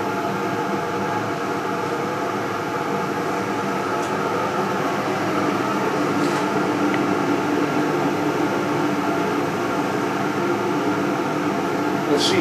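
A gas-fired NeoTherm boiler's combustion fan hums steadily as it modulates down toward 2,800 RPM, a continuous mechanical drone with fan whir and tonal hum, close by and unchanging with no speech.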